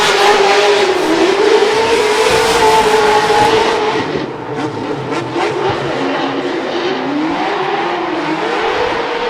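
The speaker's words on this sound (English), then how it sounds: "Just listen to the symphony of the V8 supercharged." A supercharged V8 drift car at a Formula Drift round in Long Beach screams loud and continuous, its pitch swooping up and down through sustained revving, with the engine dipping briefly midway before climbing again.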